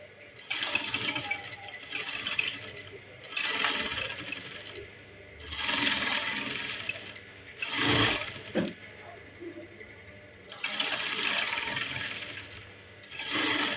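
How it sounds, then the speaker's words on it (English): A sewing machine stitches fabric along a marked line for a jumpsuit, running in several short mechanical bursts separated by pauses, moderately close. "So I'll just start sewing on the first line."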